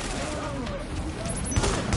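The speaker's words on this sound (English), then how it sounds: "that shotgun is so good" Shotgun fire in the video game The Division, dense overlapping blasts of gunfire that build toward a few sharper booms near the end, loud under a busy game mix with voices mixed in.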